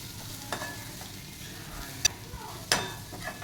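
Spice powders, onion-garlic masala, coriander and cumin, sautéing in a pan for an eggplant bharit, a soft low sizzle broken by a few sharp spoon clinks and scrapes.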